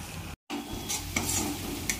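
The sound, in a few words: stirring egg curry masala with tomato sauce in pan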